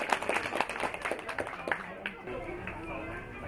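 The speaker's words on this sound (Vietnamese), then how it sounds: "Xin mời quý vị dành một tràng vỗ tay giòn giã để chào đón vị trưởng đoàn của nhà trai" Scattered applause breaks out at an engagement ceremony to welcome the head of the groom's family delegation, a steady patter of hand claps across the room, fairly faint and continuous.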